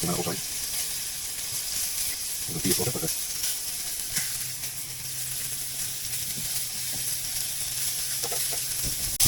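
Moose meat pieces browning in a hot pan for stew give a steady, loud sizzle that runs throughout, with a few brief clattering bursts as pieces are moved.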